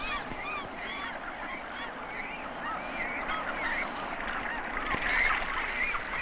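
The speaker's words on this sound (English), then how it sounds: "Hundreds of birds crowd onto these sheer rocks to build their nests on the narrow ledges." Seabirds packed onto sheer nesting cliffs in the Pribilof Islands, where cormorants nest on narrow ledges, make a constant, loud chorus of overlapping cries and honking calls from hundreds of birds.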